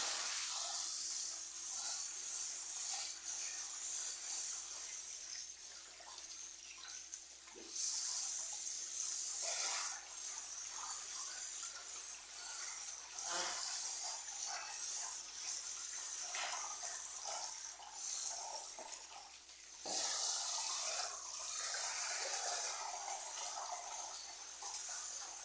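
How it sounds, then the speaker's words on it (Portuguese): Tap water runs steadily over rice being washed in a kitchen sink, a close continuous hiss and splash for the whole stretch with slight swells as the rice is stirred. "Gosto de lavar o arroz, né?"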